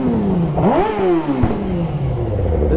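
A Suzuki GSX-R 600 sport bike engine revs up and falls back from close by, a loud rising and dropping whine with a rough, clattering edge.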